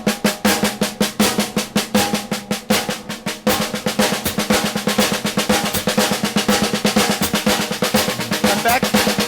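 Drums played as single paradiddles in sixteenth-note triplets, a fast, even stream of close, bright strokes with steady accents that continues for several seconds without talk.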